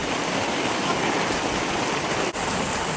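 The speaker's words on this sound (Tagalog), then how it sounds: "Nabot na ng ulan, guys." Heavy rain pours down steadily on a zigzag mountain road, making a dense, loud, even hiss with no pauses and no voices.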